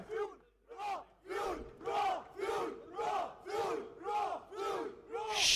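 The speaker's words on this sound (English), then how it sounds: "The cheering squad really is just boundless. So full of energy, so pumped up." An esports crowd at a Valorant grand final cheers and screams in loud, rhythmic chant-like bursts, roughly one surge per second, with no talk over it.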